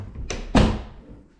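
A door shuts over a TRX anchor pillow wedged at its top, a soft rustle followed by one firm, close thunk that rings briefly and fades.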